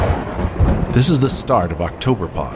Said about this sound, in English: sound you hear is the worst storm of the summer